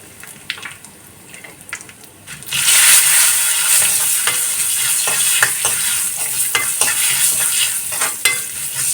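Chili powder hits hot oil already crackling with mustard seeds and curry leaves for a dried prawn, jackfruit seed and mango curry, bursting into a loud, steady sizzle after a quieter start, with scraping stirs throughout.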